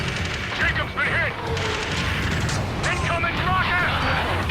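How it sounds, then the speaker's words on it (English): Rocket explosions and combat blasts from the video game Ace Combat 7 rumble loudly and continuously, layered with radio chatter and voices over the dense battle noise. "Incoming rocket!"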